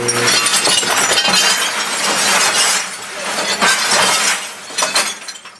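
Glass smashing and tumbling inside a running clothes dryer, a loud dense jumble of crashing, tinkling shards and rattling clunks that swells and fades repeatedly.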